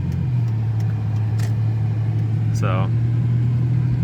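Steady, loud engine rumble and road noise from inside a car circling a roundabout around a city hall building, a brief voice heard over the drone.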